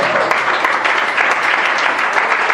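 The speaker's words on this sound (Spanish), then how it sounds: "Denle fuerte el aplauso al Señor" Loud, steady applause from a church congregation praising the Lord during a Christian service, sustained clapping filling the room without a break.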